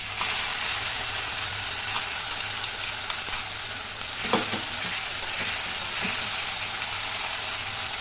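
Ground whole-spice paste for an egg curry fries in a hot pan with a continuous close sizzle and crackle, broken by a few soft scraping stirs partway through, with no talking.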